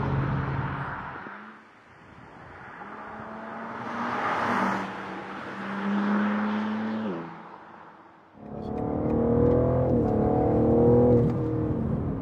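A new BMW M3 Competition engine revs up and down in waves, rising and falling in pitch, then roars louder and steadier near the end.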